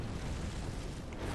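A fire attack blast in Dark Souls 2, a steady roaring whoosh of flame held for about a second and a half at moderate level, with no talk over it.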